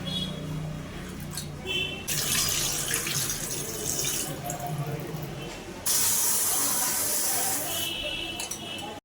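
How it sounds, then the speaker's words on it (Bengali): Gobindobhog rice washed under running tap water, a steady close splashing rush that swells louder in stretches as the water hits the grains and vessel. "গোবিন্দভোগ চালটাকে ভালো করে এখন জল দিয়ে ধুয়ে দিচ্ছে"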